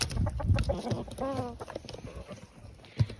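Hens clucking inside a chicken coop as they are fed table scraps, with a short tonal cackle in the middle and scattered near rustling and pecking, someone speaking over them at times.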